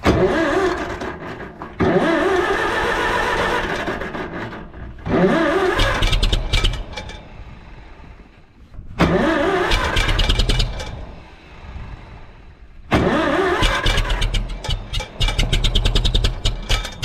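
A cold Farmall M tractor engine is cranked and started in three loud bursts of rough, rumbling engine noise, each cut off by a quieter pause before the next try.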